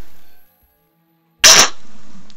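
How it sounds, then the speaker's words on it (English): A single sharp sneeze bursts out suddenly after a moment of silence during a video game session, loud and close, followed by faint background game sound. "that was a sneeze"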